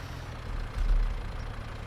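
A tractor engine idling in the Farming Simulator 25 video game, a steady low-pitched rumble with a slight swell in the middle, close and continuous with no talking.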